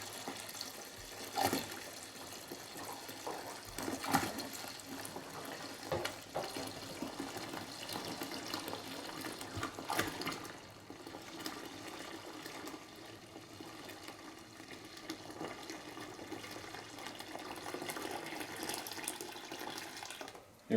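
Filtered water pouring into a large brewing pot for wheat beer, a continuous close splashing rush with occasional louder knocks and sloshes throughout, no talking.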